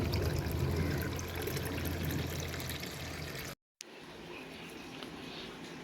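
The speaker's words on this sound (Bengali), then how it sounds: "এবার ছেঁকে নিচ্ছি।" Aam panna, a mango drink, pours through a strainer in a steady, close trickling wash that stops abruptly and then resumes more quietly.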